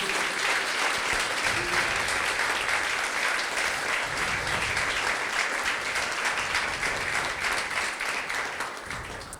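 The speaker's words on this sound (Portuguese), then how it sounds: "Dê uma última salva de palmas a Jesus." A church congregation claps together for Jesus, a dense, steady wash of applause that holds strong throughout and fades slightly at the end, with no talking over it.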